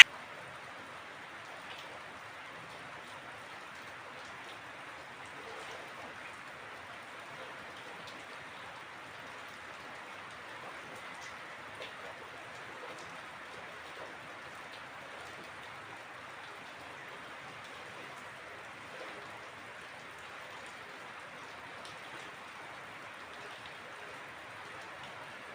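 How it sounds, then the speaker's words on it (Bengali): Steady rain falls on an early morning, a soft, even hiss that continues unbroken throughout at low volume, with no voices present. "যে বৃষ্টি শুরু হয়েছে।"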